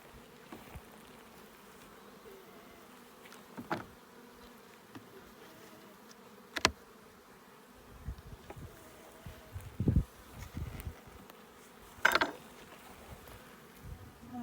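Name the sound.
honeybees buzzing around a beehive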